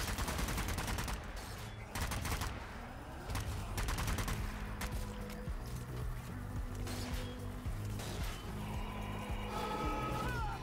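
Rapid automatic fire from a Thompson submachine gun in the zombie shooter Zombie Army 4, sustained bursts loud and close through most of the stretch, with brief gaps between volleys.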